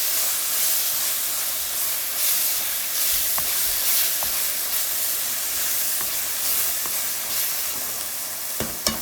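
Ginger garlic paste frying in a pan for mutton curry, a steady bright sizzle with soft occasional stirring clicks, close and continuous with no talking.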